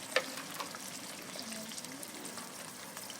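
Onions frying lightly in a kadhai, a soft steady sizzle with faint scraping and stirring clicks, close by and fairly quiet with no talking.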